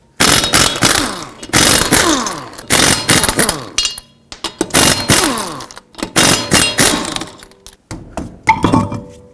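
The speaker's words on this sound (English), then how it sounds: "Okay, now you can remove the wheel, again with a 19mm socket." Wheel lug nuts being removed with a 19mm socket on a 2006-2011 Chevrolet HHR, heard as loud, close bursts of rattling, whirring tool noise separated by short pauses.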